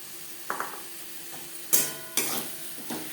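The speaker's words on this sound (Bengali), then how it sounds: "2-3 বারে মেশাতে থাকবো আর নাড়তে থাকবো।" Stirring dry-roasted semolina with part-cooked vegetables in a pan over low flame, a few distinct scraping and clinking strokes of a utensil against the pan with soft sizzling between.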